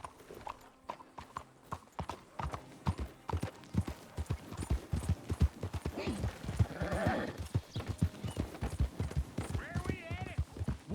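Horse hooves clopping in a steady walking rhythm in Red Dead Redemption 2, close and even, with a neigh midway and people talking over the hoofbeats.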